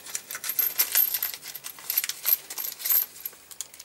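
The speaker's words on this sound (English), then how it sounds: "Oh look, a bag of M10 washers" A bag of M10 metal washers rattles and clinks in the hand: bright, irregular jingling close by, in short bursts for several seconds, with no talking.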